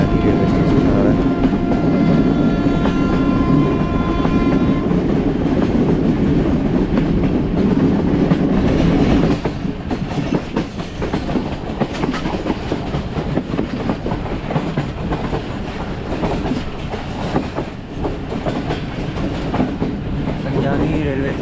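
A passenger train on the Havelian–Rawalpindi line rolls steadily past Sanjani station near Islamabad, a loud continuous rumble with wheel clatter throughout and a tonal hum easing after the first few seconds.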